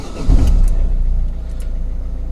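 Engine of a Peugeot Partner van turning over right after the ignition key is turned, a loud low rumble that swells near the start and then settles into a steady idle, close by and with no talk.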